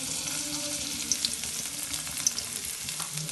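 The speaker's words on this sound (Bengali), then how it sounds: "এই সরিষার তেলের পরে আমরা পেঁয়াজ কুচি আস্তে আস্তে ঢেলে দিচ্ছি" Chopped onions frying in mustard oil in a wok give a steady, close crackling sizzle with a few sharp pops and faint stirring, with no talking.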